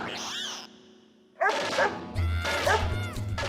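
A dog in a residential housing society yips and barks several times in quick, sharp bursts, close and fairly loud, after a quieter start.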